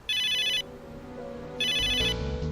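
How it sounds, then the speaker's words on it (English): A cheerful electronic phone ringtone from the video game Megadimension Neptunia VII plays in two loud, bright bursts separated by a short pause, with soft background music underneath. "Phone ring."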